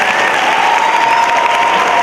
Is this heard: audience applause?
yes